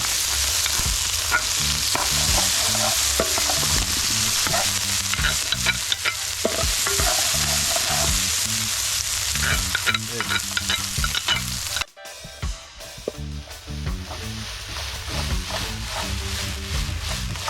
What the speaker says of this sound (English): So we're gonna saute some garlic, Irish potato, carrot.